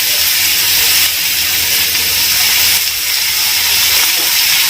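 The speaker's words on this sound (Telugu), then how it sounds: "ఆ టమాటాలని ఇందులో వేస్తున్నాను." Finely chopped tomatoes hit hot oil in a pan and fry with a loud, broad, continuous sizzling hiss that stays steady for several seconds, close up and with no one talking.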